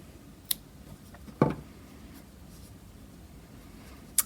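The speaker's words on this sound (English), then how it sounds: "And you can cut your yarn again." A few faint, sharp snips of scissors cutting crochet yarn after a slip stitch join, spaced irregularly in a quiet room.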